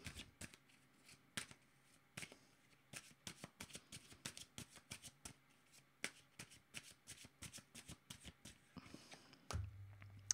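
Tarot cards being shuffled and drawn by hand, a quick run of soft riffling slaps and flicks spread across the clip, fairly faint and close, with no talking.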